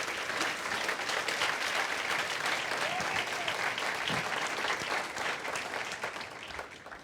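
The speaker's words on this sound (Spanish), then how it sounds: "Dale un aplauso al Señor" A church congregation applauds throughout, steady dense clapping from many hands at moderate distance, holding an even level for several seconds with faint crowd murmur underneath.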